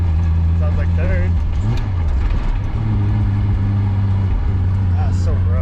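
A car with a 1JZ VVTi engine and a twin-disc clutch drones in third gear from inside the cabin, steady and loud, with pitch dipping at gear shifts while people talk over it.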